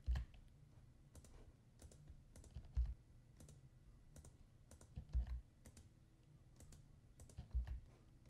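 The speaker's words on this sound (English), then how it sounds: "you seem to have to go to each image and separately click Shift F7" Computer keyboard keys pressed in a quiet room, a sparse run of soft clicks with a few firmer taps at irregular intervals, faint and alone with no talking.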